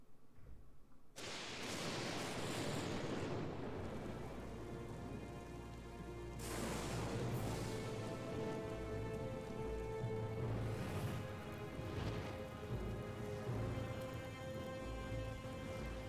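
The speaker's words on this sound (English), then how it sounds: "There was a thunderstorm on the way, and as the storm drew nearer," Steady, dense rain pours down during a thunderstorm in Professor Layton vs Phoenix Wright, with brief rumbling swells of thunder rolling through the downpour.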